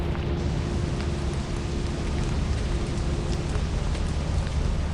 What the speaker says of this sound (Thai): โอ้หน้าฝน